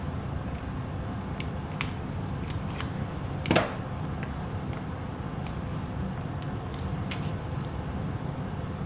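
Scissors snip through paper while a scrapbook layout is assembled with Mintay Papers supplies, a single short cut standing out mid-way over a quiet, steady room hum, with no talking.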